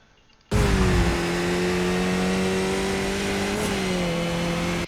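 A Skip Barber race car in iRacing at Zandvoort holds a loud, steady high-revving engine drone that bursts in abruptly, then upshifts into fifth with a brief dip in pitch near the end, with no talking.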